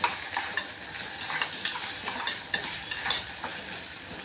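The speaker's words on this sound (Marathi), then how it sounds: "आणि तिला थोडं फ्राय करून घेते" Ginger garlic paste fries in hot oil for a chicken curry, giving a steady close sizzle with soft crackles and occasional stirring scrapes, no voices.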